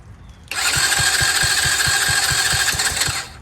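A Tao Tao 125cc ATV engine on choke cranks over without catching, a steady mechanical whir with regular low thumps about every third of a second for roughly three seconds, close and loud.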